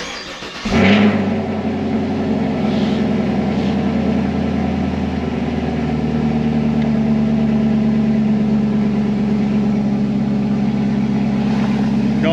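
A Chevrolet Camaro with an LT1 engine cranks briefly and catches, then settles into a steady, loud, close-up idle rumble that continues evenly to the end, with no talking.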